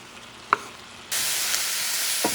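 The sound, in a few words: pepper steak mixture cooking in a pan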